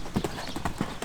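Horse hooves clip-clop in a steady rhythm during an outdoor show-jumping lesson, several distinct close footfalls with faint talk in the background.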